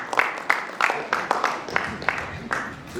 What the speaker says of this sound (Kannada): ಪ್ಲೀಸ್ ಜೋರಾದ ಚಪ್ಪಾಳೆ ಅವರಿಗೆ.